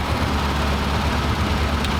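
Triumph Spitfire engine running steadily as its overdrive gearbox disengages, a continuous close, loud low rumble with an even mechanical hum and no break in rhythm.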